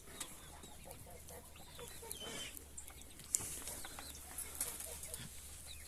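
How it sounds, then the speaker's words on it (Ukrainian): A Brahma hen clucks in a farmyard among other fowl, with soft, irregular clucks, a little wing flapping and background chatter of poultry at moderate distance. "Вже ось це моя курочка виросла брама."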